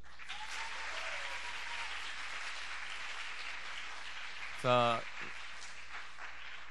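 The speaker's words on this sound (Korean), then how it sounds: "중등부 가운데 2배로 역사해달라고 박수." A church congregation claps together in steady, sustained applause during a worship service, filling the room for several seconds before a single voice speaks briefly over the end.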